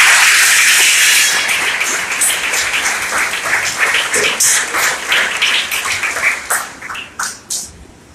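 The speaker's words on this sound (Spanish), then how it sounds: "Le dan palmas a Cristo como una aprobación." A congregation in church claps in a dense burst of applause that starts strong, then thins into scattered, fading claps.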